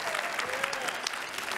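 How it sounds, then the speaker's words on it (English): A church congregation claps during a Sunday service, a dense, continuous wash of applause heard from a moderate distance, with a faint tone running underneath. "Clap your hands for that."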